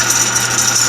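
The 800 RPM electric motor of a restored 1959 Axeman Anderson 130 ashing system runs with a steady loud rattling hum and a high whine, continuous and close, with no voices.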